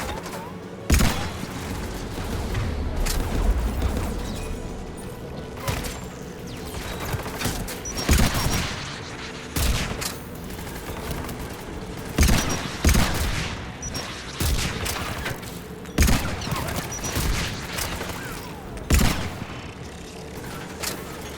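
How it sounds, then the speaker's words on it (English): Anti-aircraft guns in Mass Effect 3 fire in repeated heavy volleys, sharp booming bursts every second or two over a steady mechanical rumble, loud and close, with no one talking. "anti-aircraft guns are up ahead."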